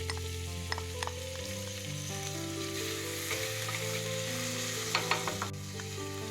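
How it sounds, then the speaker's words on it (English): Onions sizzle steadily in a pan over low heat for a vegetable soup with bacon, a continuous frying crackle with occasional small pops and clinks of stirring, close and moderately loud with no talking. "pre-cook the onions on low heat until they become translucent or caramelized"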